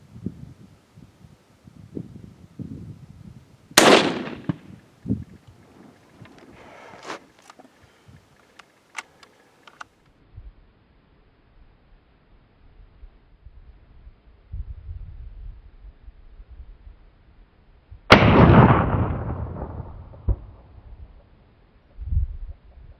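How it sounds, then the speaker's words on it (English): Two sharp rifle shots, a 22-250 or 204 Ruger fired at targets 200 yards out, crack loudly about fourteen seconds apart, each followed by a rolling echo, with quiet outdoor rumble in between. "Shooting at a distance of 200 yards, it's either a 22-250 or a 204 Ruger."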